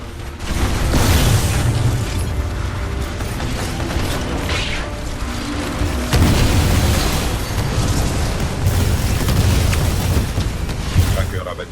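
Weapon fire and explosions in the video game Titanfall 2, a dense mix of mechanical clanking, repeated booms and gunfire, loud throughout, with French game dialogue in places.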